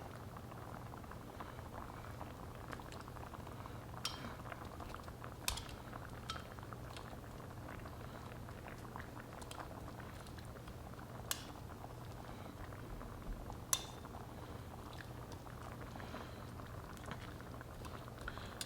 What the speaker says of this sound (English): We're just going to let this simmer for about 3 to 5 minutes.